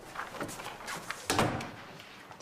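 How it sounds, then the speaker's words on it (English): An office door is pushed shut with a single thud partway through, set against quiet room noise with faint movement before it. "Shut the door."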